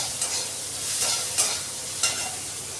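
Mango pieces with salt and turmeric fry and sizzle in a pan for a sour mango curry, with a steady close crackle broken by a few sharp spatula scrapes and stirs.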